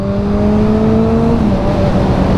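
A steady Suzuki Bandit GSF 650 motorcycle engine drone runs throughout, with a low idling tone that shifts slightly in pitch partway through, close and continuous.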